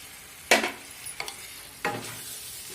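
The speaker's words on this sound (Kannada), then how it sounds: "ಇದು ಹಸಿ ವಾಸನೆ ಹೋಗೋವರೆಗೂ ಫ್ರೈ ಮಾಡಬೇಕು." Ground ginger, garlic, tomato and coriander paste stirred and frying in a pan over a medium flame, with a soft steady sizzle broken by three louder scraping stirs.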